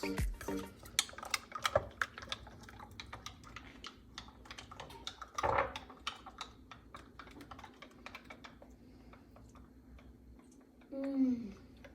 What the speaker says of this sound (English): Just mix it. Come on, mix even faster.